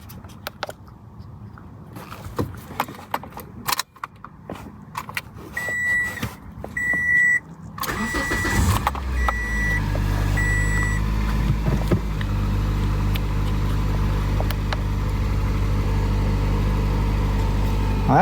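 A Toyota Corolla engine idles during a charging system test, first faint and broken by scattered clicks and short beeps, then a steady, close, low drone settles in and holds to the end.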